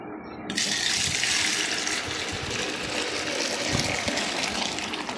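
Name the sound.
warm milk poured repeatedly from a height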